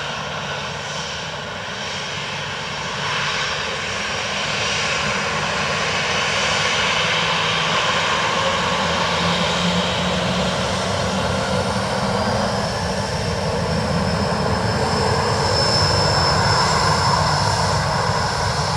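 A Ryanair airliner landing on runway 28 left at Dublin Airport, its engines roaring loudly and steadily throughout and swelling slightly as it comes down, with a faint high whine rising near the end.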